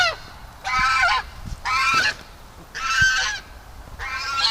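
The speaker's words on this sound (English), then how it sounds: "the geese are being loud" Geese honk loudly in four long, repeated bursts, each separated by a short pause, close by in a barn where duck and goose eggs are being hatched, with no talk over the calls.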